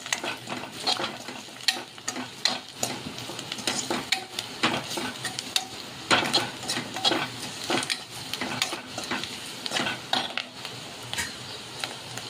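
A spoon stirs cumin powder, kasuri methi and salt through a sizzling masala in a pan for spiced okra, with a busy run of scraping, clinking strokes over a soft fry, steady and close.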